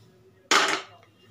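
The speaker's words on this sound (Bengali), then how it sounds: "বিনসগুলো যে কুচিয়ে রেখেছিলাম, দিয়ে দিলাম।" Chopped beans tumble into a pot of boiled dal in one quick, close rattling splash that fades within half a second, followed by near silence.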